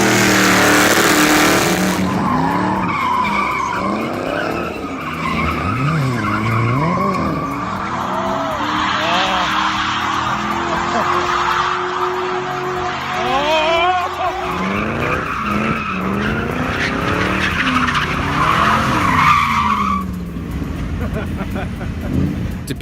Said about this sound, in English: The P71 Interceptor, while not being necessarily fast, is definitely no slouch though. And as you can see here, yeah, it drifts.